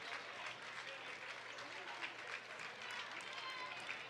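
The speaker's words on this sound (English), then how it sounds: "And a round of applause for the starters." A crowd at a high school boys basketball game applauds the starters, a steady wash of clapping from the stands under a loud announcer's voice.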